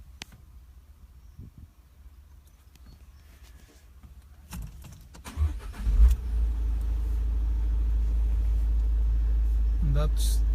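Citroen Dispatch van engine idling and then rising to a steady, loud low rumble as it goes into reverse, with quieter clicks and movement before the engine swells and holds.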